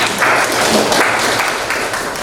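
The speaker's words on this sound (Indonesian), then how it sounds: "Tepuk tangan untuk kita semua." A school class in an arts dance lesson applauds together, close and loud, as dense, even clapping with a few distinct hand slaps standing out before it begins to fade.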